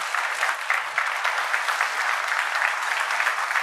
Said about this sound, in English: clap your hands for Raniz.